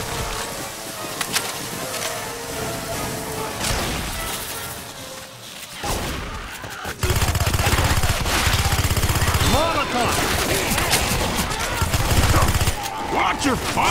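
Rapid bursts of automatic gunfire in the zombie shooter Left 4 Dead 2, dense and continuous with crashing impacts and a louder, heavier stretch of shooting in the second half, mixed with game chatter and shouting.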